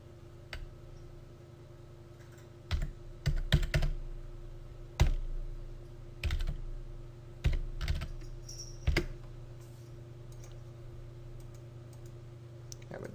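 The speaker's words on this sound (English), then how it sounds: "Or I can just type it in here" Computer keyboard typing comes in irregular bursts of sharp clicks, close and clear over a faint steady hum, with short pauses between groups of keystrokes.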